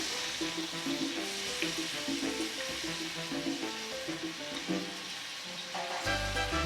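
Browned meat sizzling in a pan with recaito just added, a steady crackling fry with faint scraping and stirring, close and even, then a louder burst of hissing near the end.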